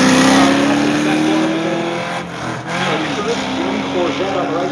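A Corvette race car accelerates hard in a street car roll race at BIR, its engine note climbing steadily, dropping briefly as it shifts, then rising again, loud and close over crowd and commentator talk.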